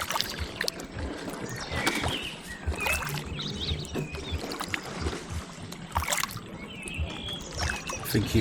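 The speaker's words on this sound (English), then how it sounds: "I think you can hear the whoosh of the oars." Rowing oars swishing through river water on a stretch of river near Allington Lock, with repeated whooshing strokes and splashes close by over a constant rushing wash, with faint bird calls.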